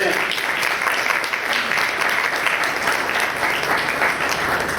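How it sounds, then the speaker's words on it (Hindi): A congregation at a Sunday church service applauds a doctor, steady dense clapping filling the hall at an even level throughout, with a faint murmur of voices beneath. "डॉक्टर साहब के लिए, मिस्टर सैमुअल साहब के लिए तालियां बजाइए।"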